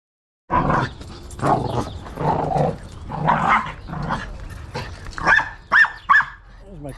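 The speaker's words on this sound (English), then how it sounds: "There's my killer guard dogs." Several guard dogs bark and growl in a garage, loud and close, with a run of sharp yips near the end, while a person talks over them.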